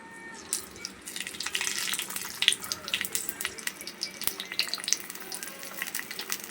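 Oil pours into a hot pan with urad dal, mustard seeds and fenugreek tempering and crackles into a bright, spitting sizzle, close by, rising and popping unevenly.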